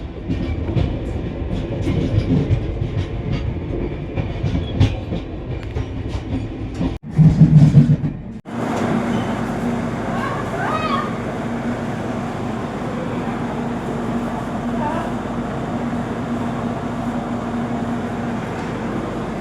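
Kanchan Kanya Express running on the tracks, heard from inside a Third AC Economy coach near Bardhaman Junction: a steady loud rumble of wheels with faint clicks, a brief heavier burst midway, then an even rolling drone.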